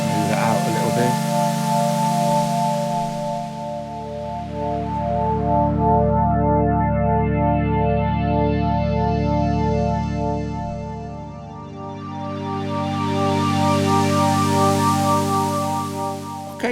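A sustained pad chord from a BLEASS Megalit synthesizer holds steadily, its tone slowly sweeping brighter and darker in smooth swells across the whole passage.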